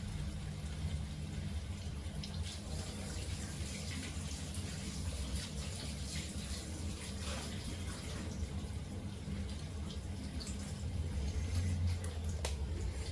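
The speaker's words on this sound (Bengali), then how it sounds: "হাতটা ধুয়ে নিই।" Tap water runs steadily while hands are washed, a continuous, close, even gushing hiss that holds for the whole stretch with no voices.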